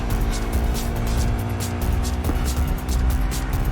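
A vehicle engine in Cyberpunk 2077 revs and accelerates, a loud, steady, droning hum with a strong tonal whine that runs throughout with slight surges.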